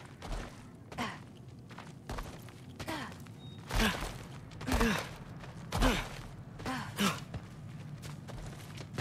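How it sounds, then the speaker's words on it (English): Heavy, rhythmic breathing from an unseen creature lurking at the back of a dark cellar in God of War Ragnarök, with about seven slow sighing breaths rising and falling close by over a low ambient hum. "I can hear something breathing near the back of the cellar."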